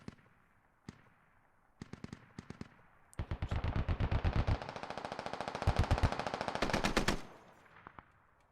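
Bursts of .50 cal machine gun fire in the Squad video game, a few scattered short volleys early, then sustained rapid loud firing for several seconds before dropping off.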